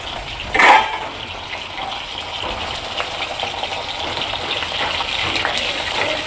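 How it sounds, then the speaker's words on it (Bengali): A steady broadband hiss of pointed gourd frying in hot oil, with a brief louder sizzle burst near the start, then a constant crackle throughout. "একদম যেরকম পটল ভাজা হয় সেরকমই ভাজবো।"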